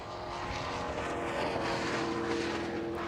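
A Trans Am TA2 race car at Thunderhill with its front splitter dragging on the track, a steady loud engine and scraping roar that continues throughout with no talk.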